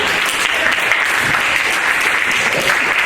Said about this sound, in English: Let's give them a big round of applause, ladies and